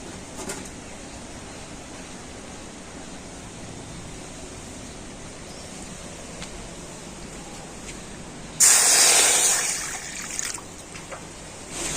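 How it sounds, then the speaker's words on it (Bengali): A bowl of water is tipped into a kadai, a short, loud splashing rush that tails off into a trickle after a quiet stretch of faint background noise. "এই বাটি মেপে এক বাটি জল আমি কড়াতে দিয়ে দিচ্ছি"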